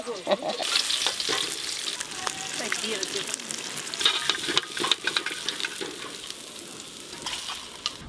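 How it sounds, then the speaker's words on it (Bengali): Prawns fry in very hot oil with a bright, steady sizzle and spatter, broken by occasional stirring knocks. The sound is close, and a voice speaks faintly underneath. "চিংড়ি মাছগুলো ভালো করে ভেজে নেব দিয়া সাথে সাথেই লাল হয়ে গেল তেল এত গরম"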